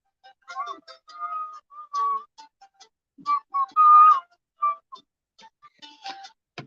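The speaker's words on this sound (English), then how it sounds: "Love this whistling sound." Melodic human whistling in short phrases with pauses, up close and clear, punctuated by a few faint ticks and small handling noises.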